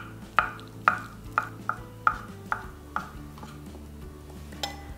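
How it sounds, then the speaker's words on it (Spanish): Surimi being chopped with a knife on a board, about eight sharp, evenly spaced cuts followed by one more after a pause, close and clear with low kitchen hum beneath. "Empezaré picando todo el surimi."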